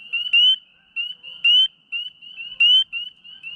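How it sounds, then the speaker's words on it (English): A spring peeper frog calling, with repeated high, sharp peeps in quick succession, close and clear against near silence, with a louder, buzzier note roughly every second. "Look at that little spring peeper."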